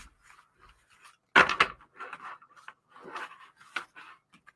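Large tarot cards are waterfall-shuffled by hand, a quiet room broken by one sharp burst of riffling followed by softer ruffles and card flicks in short clusters.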